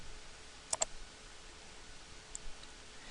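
A computer mouse gives a quick pair of faint, close clicks, followed a moment later by one softer click against a quiet room background.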